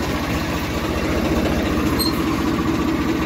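A Swaraj 855 tractor engine runs steadily with a low, even diesel throb and a rhythmic pulsing rumble, close and continuous, with no voices.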